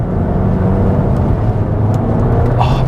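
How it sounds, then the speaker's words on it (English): Cupra Leon 300 accelerating hard out of a corner, its turbocharged engine giving a loud, close, sustained boosty roar that holds steady throughout with a faint whistle toward the end. "there's a lot of boosty noise to this car"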